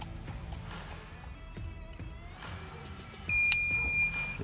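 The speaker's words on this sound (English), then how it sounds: "There you go, you're gonna hear some beeps." A remote starter module in a Kia Optima gives a few sharp electronic beeps once wired up to power, heard near and clear near the end after quiet fiddling and handling noises.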